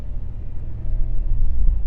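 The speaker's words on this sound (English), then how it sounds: "let's do a little bit of a harder acceleration" A RAM 1500 TRX pickup with a 702 hp supercharged Hellcat engine accelerating hard, heard from inside as a steady deep engine rumble that builds slightly in loudness, with no talking.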